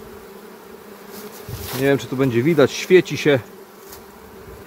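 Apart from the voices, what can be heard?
honey bees buzzing at the hive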